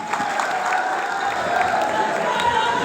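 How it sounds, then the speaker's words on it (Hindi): An audience at an OBC Mahasabha Bihar gathering applauds to welcome Dr. Laxman Yadav, a steady wash of crowd clapping held at an even level throughout, with some voices mixed in. "इस आशा और उम्मीद के साथ कि जोरदार ताली से स्वागत करें डॉक्टर लक्ष्मण यादव जी"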